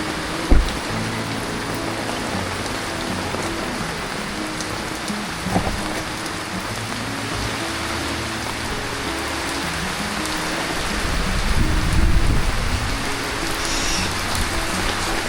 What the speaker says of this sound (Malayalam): അപ്പോൾ നല്ല മഴയുമാണ് പുറത്ത്.